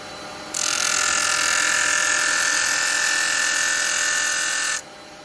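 Woodturning a carved piece on a lathe, cleaning up its back with a carbide chisel: a steady, bright, high scraping hiss begins abruptly, holds for about four seconds and stops, over a low background hum.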